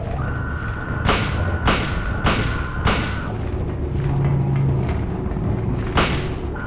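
Four heavy gunshots fired in quick succession in the Silent Hill video game, then a pause and a fifth shot, each one loud and booming over a steady droning game ambience.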